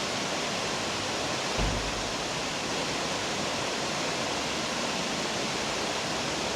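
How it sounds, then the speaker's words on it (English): A river rushes steadily below a hotel in downtown Gatlinburg, a dense, continuous broadband roar with no pauses, and one brief low thump early on. "it is so relaxing to just listen to the river down below"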